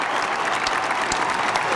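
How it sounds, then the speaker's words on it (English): A crowd claps and cheers for a climber who has just topped out on a high boulder, with a dense, continuous burst of applause that stays loud throughout. "Can we give Enrico a round of applause,"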